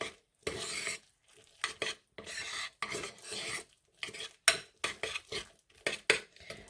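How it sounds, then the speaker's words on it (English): A spoon stirring a protein shake mixture, close scraping and clinking bursts in an irregular rhythm, separated by short silent pauses, with no talking. "So gotta make sure we give that a good old mix."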